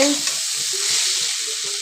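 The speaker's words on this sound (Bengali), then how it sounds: "দিয়ে আরও একটু ভাজলাম" Egg and potato curry fries in a pan with a close, continuous sizzle and a few soft scraping stirs over the hiss, no voices.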